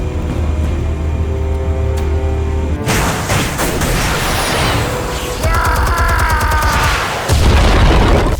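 Explosives detonating in the Batman Telltale game: a loud, dense blast erupts after a tense hum, with rumbling debris and clatter, then another deep boom hits toward the end.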